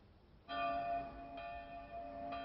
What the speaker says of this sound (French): les cloches de l'église invitent les fidèles au recueillement.